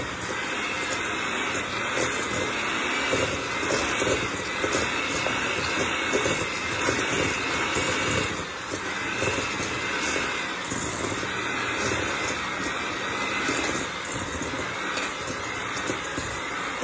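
An electric mixer creams butterscotch cookie dough, a steady, loud motor whir with a gritty churning texture that runs unbroken from start to finish with no voices.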